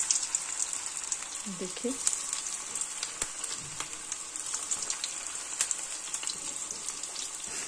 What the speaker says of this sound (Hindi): इसमें मैं ये कोफ्ते हल्के से फ्राई करने के लिए रख देती हूँ